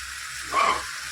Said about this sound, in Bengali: এবার এই কাঁঠালটা মশলাটাকে ভালোভাবে কষে নেবো